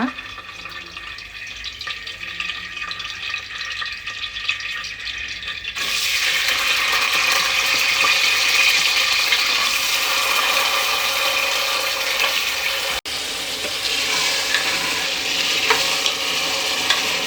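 Ivy gourd and brinjal drop into hot oil for a sambar, a quiet stretch giving way to a loud, steady sizzle that fills the rest of the clip, with faint stirring scrapes and no talk.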